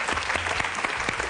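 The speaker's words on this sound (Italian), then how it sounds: "Applauso speciale" Studio audience applause on an Italian cooking show set, a steady dense wash of clapping that carries on without a break for the whole moment, with no voices rising above it.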